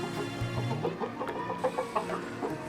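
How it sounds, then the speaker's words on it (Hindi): A rooster clucks in a series of short, close calls with a few louder accented notes, heard alone without talk. "ये वही मुर्गा है जो मैंने आपको पहले दिखाया था"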